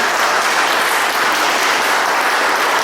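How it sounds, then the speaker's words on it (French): Steady, dense applause fills the space for the musicians at a Sunday church service, continuous clapping from a crowd throughout with no pauses and no voices over it. "Je crois qu'on peut les applaudir"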